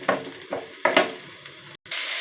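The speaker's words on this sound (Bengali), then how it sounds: "প্রথমে আমি তেলের উপর পেঁয়াজ কাঁচা ঝাল দিয়ে ভেজে নিচ্ছি" Onions sizzle in a little oil, close by, with a few scraping stirs of a spoon against the pan and a brief sharp cut near the end.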